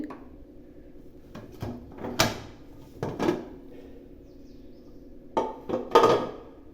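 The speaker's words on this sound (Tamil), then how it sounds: "இப்போ குக்கரை திறக்கலாம்." A pressure cooker lid being opened after the pressure has gone, with a series of sharp metallic clanks and knocks, some louder than others, close by in a quiet kitchen with no talking.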